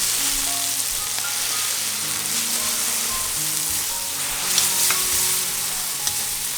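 Kimchi and its juice stir-fry in a hot pan, giving a loud continuous sizzle broken by scraping strokes of the spatula, with no talking.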